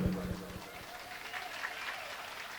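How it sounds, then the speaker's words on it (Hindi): A crowd at a Chhattisgarhi Ramayan performance claps, starting with a brief loud burst mixed with a voice, then settling into fainter, scattered clapping. "चलिए एक बार जोरदार ताली बजाइए।"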